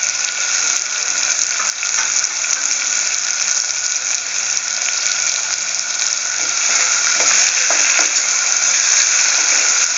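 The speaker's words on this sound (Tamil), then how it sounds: "இதில் இந்த வெங்காயம் தக்காளியை நாம் போட்டு நல்ல ஒரு வதக்க போகிறோம்." Onion and tomato sautéing in hot oil for a South Tamil bitter gourd pitla, a steady loud crackling sizzle that holds evenly throughout with a few faint scraping clicks.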